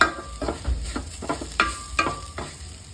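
Onions sizzling in a pan as a heaped spoon of coriander powder is stirred in, steady frying hiss broken by rhythmic scraping strokes of the spoon, close and alone.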